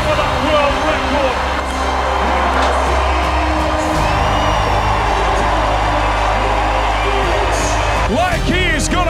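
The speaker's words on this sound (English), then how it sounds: "Listen to the crowd erupt." A large crowd roars and cheers continuously at a strongman event as 56-year-old Mark Felix attempts a Hercules Hold world record, loud and close, with whoops rising near the end.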